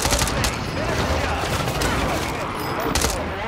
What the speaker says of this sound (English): So I just dropped an airstrike on top of us.